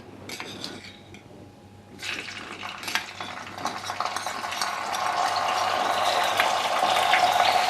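Ginger-garlic paste is stirred into hot oil with curry leaves, dried red chillies and hing in a pan for dal, giving a steady, building sizzle with spoon scrapes and clinks against the pan.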